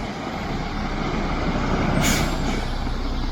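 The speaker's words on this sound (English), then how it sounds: "These trucks are all-wheel drive." An all-wheel-drive concrete truck rumbling steadily nearby, with a loud low engine drone and a brief hiss of air around the middle, no voices.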